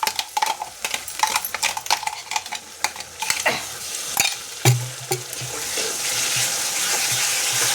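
Mixer-ground onion paste goes into a hot pan with capsicum for pav bhaji. Utensils scrape and clatter in bursts of stirring before the frying settles into a steady, close sizzle, with no talking.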